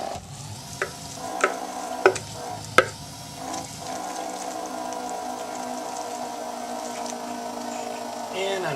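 Spinach stirred into a green garlic risotto in a pan: a few soft scraping clicks and stirs at the start, then a steady low sizzle and bubbling simmer.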